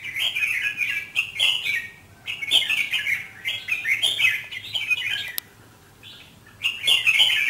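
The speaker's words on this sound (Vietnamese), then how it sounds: "Con chim bổi ngoài đẹp quá." A red-whiskered bulbul gives repeated bright, chirpy whistled phrases in bursts with short pauses, fairly close and clear, with no voices.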